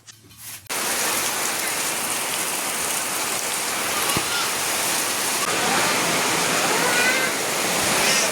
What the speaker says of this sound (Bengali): চরম বৃষ্টি হচ্ছে বন্ধুরা, দেখো চরম বৃষ্টি, মুষলধারে বৃষ্টি পড়ছে